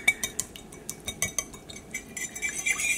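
Metal utensil mashing chunks of peppers in a dish, with quick, irregular clinks and scrapes, close and fairly quiet, with no talk.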